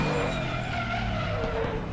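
A BMW Z4 GT3 race car in RaceRoom Racing Experience brakes hard with steady, loud tire squeal layered over the droning engine, holding at the same level for a couple of seconds.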